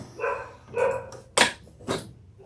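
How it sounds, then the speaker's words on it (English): Dogs bark several times in quick succession, a few sharp, loud barks at moderate distance with brief pauses between, heard alone indoors. "the dogs are barking"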